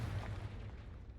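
A Confringo blasting spell exploding in Hogwarts Legacy, a deep booming burst that rumbles and fades over about a second.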